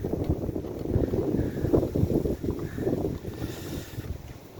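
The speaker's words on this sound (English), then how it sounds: "Gosh, it's windy today." Wind gusting outdoors at a garden plot with a greenhouse on a wintry day, a steady rumbling rush buffeting the microphone, fairly faint, with no voices.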